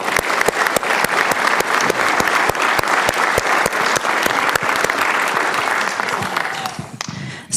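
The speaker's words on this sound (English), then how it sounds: "let's give her a round of applause" A roomful of people claps steadily for a former interfaith group chairperson at a talk on peacemaking in the Holy Land; dense, continuous clapping holds strong for about six seconds, then thins and tapers off.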